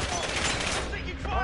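Rapid automatic gunfire crackles in the Warzone video game during a cluster strike, dense and continuous, with a player's voice talking over the shooting.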